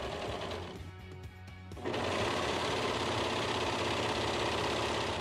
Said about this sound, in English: So I'm gonna take it over to my serger and do that.